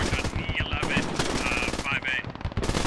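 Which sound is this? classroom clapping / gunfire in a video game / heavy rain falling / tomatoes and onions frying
gunfire in a video game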